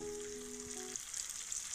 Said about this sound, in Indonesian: Langsung kita goreng dalam minyak panas